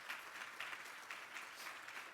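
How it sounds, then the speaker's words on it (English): A banquet crowd gives a round of applause, an even wash of many hands clapping heard quietly and at a distance, steady through a brief stretch with no talk. "you deserve your round of applause for that leadership"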